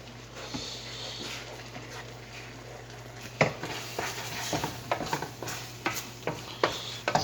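Gravy for biscuits and gravy being stirred in a pan after salt is added: a low hiss under repeated scraping and clinking utensil strokes that grow busier and louder toward the end, no speech.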